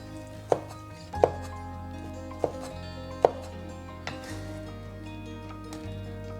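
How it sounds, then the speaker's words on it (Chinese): Shrimp being chopped with a knife on a board, several sharp separate knife strikes spaced about a second apart over a low steady background hum. "将一半的虾切碎， 另外一半的虾切成大颗粒。"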